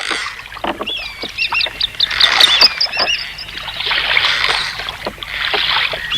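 Oars of a rowing boat on a river splash and water sloshes in a steady rowing rhythm close by, while birds chirp and call in the background.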